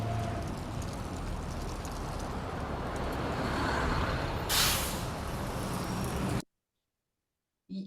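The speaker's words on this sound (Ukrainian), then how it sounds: "Що це за транспорт? Автобус." A bus rumbles past nearby with a broad engine roar and a short burst of air-brake hiss, then the sound cuts off abruptly.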